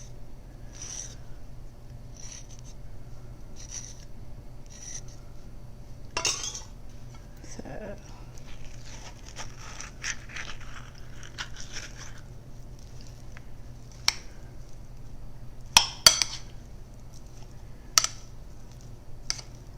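A knife cuts and dices an avocado in a home kitchen, giving soft, scattered taps and clicks on a cutting board against a quiet background hum, with a few sharper knocks near the end.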